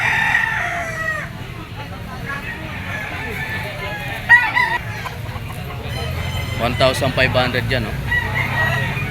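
Roosters and hens at a poultry pen for gamefowl cluck and crow nearby, several birds calling with one rising crow midway, while someone talks over them.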